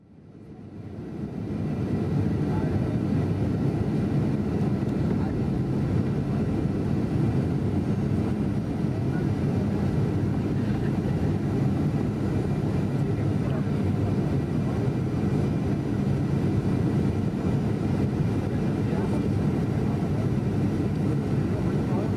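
Steady, loud airplane cabin engine drone during a flight, a broad low rumble holding evenly from start to finish with no break.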